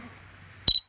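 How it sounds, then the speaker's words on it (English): A drone camera gives a short double electronic beep as it focuses, sudden and fairly loud after near-silence. "I don't like the old beep every time it focuses"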